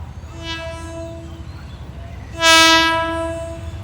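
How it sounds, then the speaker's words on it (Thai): An express train hauled by Hitachi diesel locomotive 4504 sounds its horn twice, a short tonal blast followed by a louder, longer one, with low rumbling beneath. "วันนี้ทำขบวนโดยฮิตาชิแน่นอนนะครับ"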